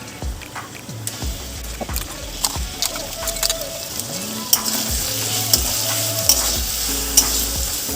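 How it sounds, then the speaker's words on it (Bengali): A spoon scrapes and stirs masala paste into onions frying in a pan for a jackfruit kaliya, with steady sizzling and repeated close scraping strokes. "মশলার পেস্টটা পেঁয়াজের সাথে ভালো করে মিশিয়ে নিচ্ছি।"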